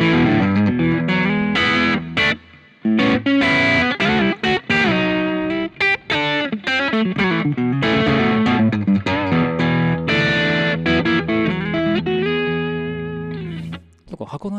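Electric guitar through a Boss GT-1000 running a Deluxe Reverb combo amp model with the gain switch on high and treble set high, playing a loud, busy, crunchy distorted riff with brief pauses and a fading final chord.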